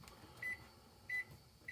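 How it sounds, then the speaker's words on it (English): A microwave oven starts up with three short, evenly spaced electronic beeps, quiet and close against a faint background hum. "my little assistant here is going to start up the microwave"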